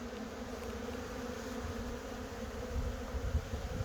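Honey bees drone steadily inside a hive box full of bees, a continuous close, even buzz with no speech, swelling slightly toward the end.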